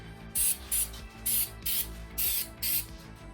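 A can of Flex Seal spray coats rubber hatch-glass window mouldings on an old Toyota. It sounds as six short, forceful hissing bursts in a steady rhythm, close up, with a faint mechanical rattle between sprays.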